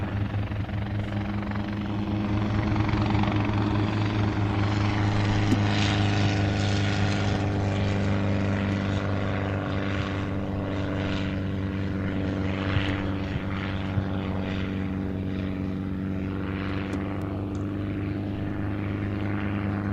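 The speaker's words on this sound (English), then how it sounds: "He's actually a Schweitzer 300C helicopter." A Schweizer 300C helicopter's rotor and engine drone steadily and loudly throughout, a continuous low throbbing hum with no voices.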